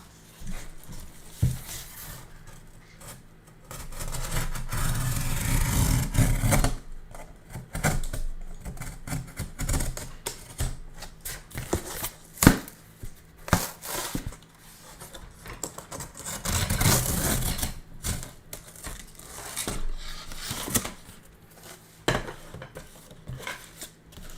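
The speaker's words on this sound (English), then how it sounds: "cutting up a million pieces of cardboard is not the most fun" Scissors snip and crunch through cardboard pieces being cut up for bird toys, close and irregular, with rustling, tapping and handling clatter between cuts and no talking.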